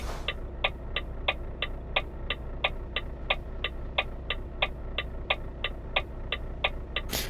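A heavy truck cruises down a freeway in Euro Truck Simulator 2, its steady low engine drone carrying on beneath a crisp, evenly spaced ticking that repeats roughly three times a second.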